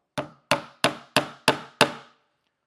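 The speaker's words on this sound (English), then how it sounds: "I'm going to hold it in place and I'm going to tack in my first nail." A hammer drives a nail into a wooden stool with six sharp, evenly spaced strikes, close and loud, each ringing briefly before the next blow.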